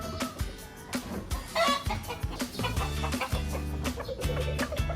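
Backyard chickens, including Rhode Island Reds, cluck busily as they are let out of their coop, with several birds calling close by in overlapping, repeated clucks.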